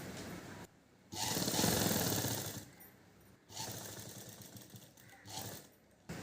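A sewing machine stitches the lining of a child's silk pattu pavadai skirt, running in three loud, rattling bursts of different lengths, with short quiet pauses between them.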